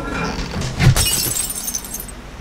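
Glass breaking in the video game 7 Days to Die: one sharp crash with bright shattering debris that trails off over a steady background bed.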